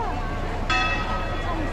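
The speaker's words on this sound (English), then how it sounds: "The bells are ringing." A church bell in Valencia, Spain, swings and rings out once and keeps resonating over a busy background of murmuring voices and low rumble.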